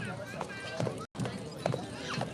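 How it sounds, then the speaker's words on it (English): Horse hooves clip-clop as a horse-drawn carriage moves along a Strawberry Festival parade route in Garden Grove, heard faintly beneath a loud announcer's voice. "Coming up next in the horse-drawn carriage vehicle provided by Wilcox Busy Buggy"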